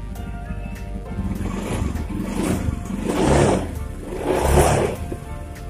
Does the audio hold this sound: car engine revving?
yes